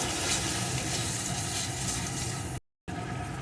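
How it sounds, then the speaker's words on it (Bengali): Masala of chili powder, turmeric and salt frying in a pan for a crab curry, a steady dense sizzle with faint stirring that cuts out briefly near the end before resuming. "এখন এই মশলাটাও আমি একটু কষিয়ে নেব"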